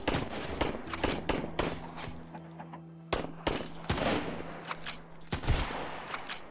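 Sharp gunshots ring out in Sunkenland, a survival shooter game, as scattered single shots and short bursts over a steady low hum, fairly close and moderately loud.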